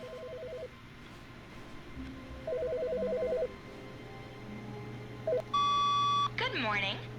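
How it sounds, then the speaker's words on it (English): A phone rings in the video game The Stanley Parable, with short bursts of electronic trilling beeps, then a sustained tone and a chirp, fairly faint under ambient game sound with a voice at the end. "I hear phone ringing."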